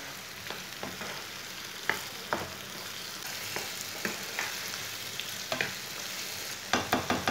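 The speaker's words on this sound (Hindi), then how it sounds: "सब्ज़ मिर्च और टमाटर डाल के दो मिनट तक पका लेंगे।" Green chillies and tomato sizzle and fry in a pan with a steady hiss, broken by sharp clicks and scrapes of stirring that bunch together near the end; no one speaks.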